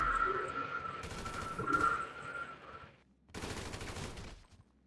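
Bursts of automatic gunfire in GTA 5 Online rattle out in two rapid volleys separated by a short pause, over a quieter game background.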